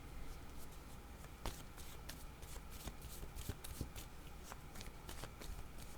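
A deck of tarot cards being shuffled produces soft, continuous riffling and brushing with scattered sharper card snaps, quiet and close, with no talk over it.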